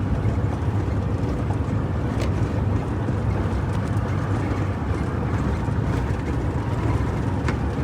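A truck engine drones loud and steady as it accelerates on a winter road, a dense rumble mixed with road and wind noise throughout, no speech over it.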